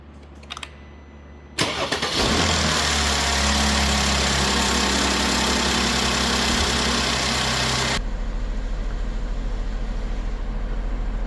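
A Mercedes-Benz GLK350 engine cranks and catches with a loud starter burst. It settles into a steady, close idle with a constant hum, and the tone shifts lower after a while as it keeps running.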